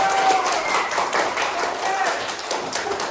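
Scattered clapping in a classroom after a group's score is announced, a loose patter of hands under ongoing voices and chatter, moderately quiet throughout.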